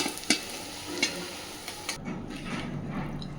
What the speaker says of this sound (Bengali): বাকি সমস্ত সয়াবিনের পাকোড়াগুলো আমি এবার ভেজে নেব